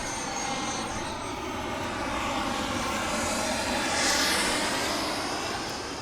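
An airplane flies low over a golf course right beside an airport, a loud, steady engine roar that swells slightly toward the middle, with no talk over it.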